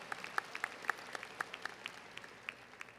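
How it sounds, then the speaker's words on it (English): Audience at a high school graduation ceremony applauding the top graduating student, a soft, distant, steady patter of many hands with a few sharper individual claps standing out. "Let's give that top student a round of applause"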